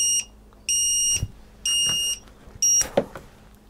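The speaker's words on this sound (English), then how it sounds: "it automatically triggers the lost model alarm." A ViFly X150 quadcopter's lost model alarm after failsafe sounds four loud, shrill electronic beep bursts in a slow repeating pattern, close and dominant, with faint handling noises between them.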